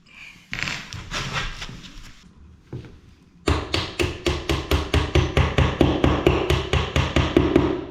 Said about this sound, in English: Tap our plug in, tap our rod in.